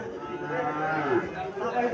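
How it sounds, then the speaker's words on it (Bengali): A Sahiwal heifer calf moos loudly and close by in a drawn-out call at a cattle market in Cumilla, Bangladesh, with faint background noise. "এখানে কিছু বকনা বাছুর দেখা যাচ্ছে"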